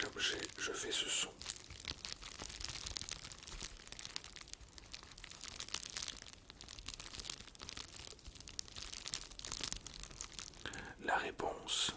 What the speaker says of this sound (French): j'ai fait ce son avec le papier à bulles